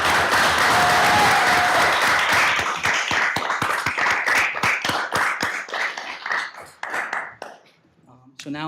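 Applause at a mayor and city council workshop in Taneytown, starting as a full burst of many hands, then thinning into distinct individual claps that fade out near the end, with talk mixed in.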